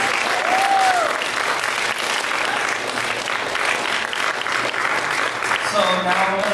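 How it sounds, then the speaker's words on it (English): An audience gives Susan a round of applause, steady and sustained clapping from a crowd indoors, with a voice briefly heard near the start and end. "can I get another round of applause for Susan,"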